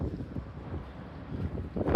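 Strong wind buffets a microphone on a high spot above a canal walk in Chester, a loud, uneven low rumble with gusty swells, building to a sharp blast at the end, with no talk.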